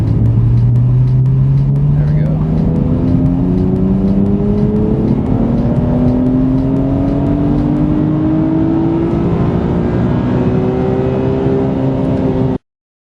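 Turbocharged car with a stock-looking exhaust accelerating hard at full throttle, the engine note climbing steadily in pitch through the revs, loud and close throughout before cutting off abruptly near the end.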